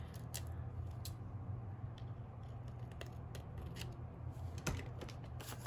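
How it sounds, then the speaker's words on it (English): Scissors trimming a small overhang of paper off the edge of a handmade card, a quick series of close, crisp snips and slicing ticks over a quiet room. "Oh, look, I do have a little bit hanging over, so I'm just going to trim off"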